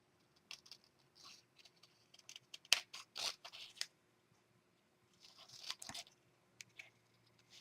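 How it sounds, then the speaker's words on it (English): Scissors snipping around a chipboard dress form piece in short, quiet bursts of crisp cuts separated by pauses, close up. "let's just cut around here real quick"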